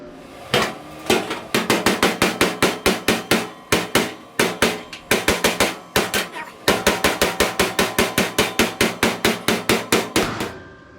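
Rapid, sharp metallic hammer blows ring out close by as a metal panel is hammered against a dolly, in quick bursts with brief pauses between the runs of strikes.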